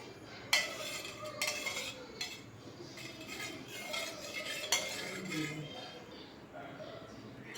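A spoon stirs kadhi with green beans in a pot: repeated metallic scrapes and clinks against the pot rim in an uneven rhythm, close and fairly loud, with soft background noise between strokes.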